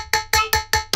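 Four sharp, evenly spaced strummed stabs from an electronic song, each a bright plucked chord with a quick decaying tail, loud and close with no voices.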